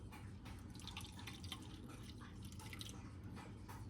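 Lukewarm potato water trickles and drips into a sink as it is poured, a steady close liquid patter with no talking.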